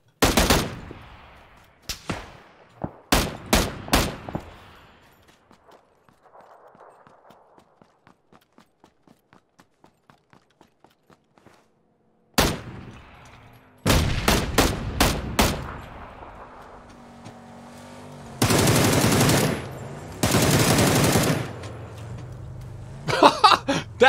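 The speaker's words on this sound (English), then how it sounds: "Someone's shooting from up there now." PUBG battle gunfire: loud shots in rapid bursts and single cracks, a quieter stretch of faint rhythmic ticking, then heavy sustained volleys nearby.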